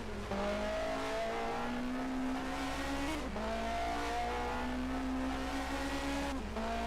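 A normally aspirated race car engine in a racing video game, modelled on a 1979 DRM Division 2 car at the Eifelrennen, drones loud and steady, its pitch climbing through two long pulls, each ending in a brief dip as a gear changes.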